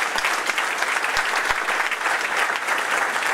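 Steady, full applause from a crowd at the presentation of a local election list, a dense continuous patter of clapping that stays even and fairly loud with no talk over it.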